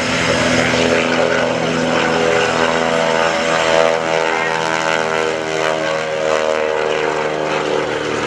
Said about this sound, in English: Let's just put a quick ear on these airplanes.